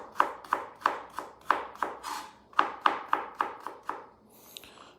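A knife chops onion on a cutting board in about a dozen crisp, evenly spaced strokes, close and fairly loud, with a short rustle at the end and no talking.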